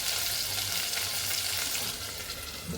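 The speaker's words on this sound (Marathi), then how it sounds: "ते पण धुवून चांगला बारीक चिरून फ्राय करणार आहे" Finely chopped tomato frying in a pan for palak paneer, a steady moderate hiss of sizzling oil with faint stirring movement throughout.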